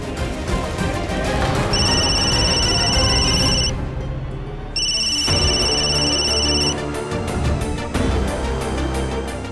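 A telephone ringing during a call, two long electronic ring bursts with a pause between them, heard over background music.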